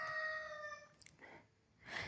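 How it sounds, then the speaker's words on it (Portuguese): A rooster crows faintly in the background, one drawn-out cock-a-doodle-doo followed by a softer trailing call, with no talking over it. "o meu barulho de fundo é sempre um galo carcarejando"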